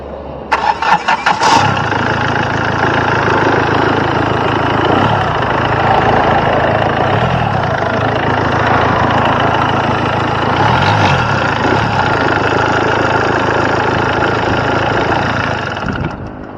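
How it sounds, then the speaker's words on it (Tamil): A Hyundai Verna CRDi diesel engine cranks with a quick burst, fires, and drops into a steady, close diesel idle with an even clatter that continues unchanged for over ten seconds. "வாங்க வண்டியோட இன்ஜின் சவுண்ட் எப்படி இருக்குது அப்படின்றத கேட்போம்"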